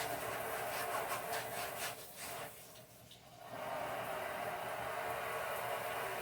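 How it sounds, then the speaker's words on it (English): Green tomatoes scrubbed with a vegetable scrubber give a close, continuous rasping rub, briefly easing off in the middle before the steady scrubbing resumes. "I use my vegetable scrubber. Get all that out of there."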